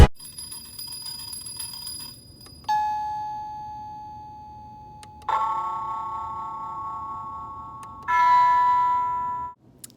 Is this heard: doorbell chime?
yes